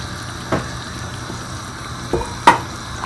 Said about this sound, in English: I'm going to add these chopped spinach leaves to it